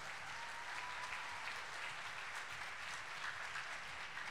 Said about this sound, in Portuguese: Eu queria que vocês aplaudissem com muito carinho Raimundo Caetano e Rogério Menezes